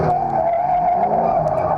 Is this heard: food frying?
no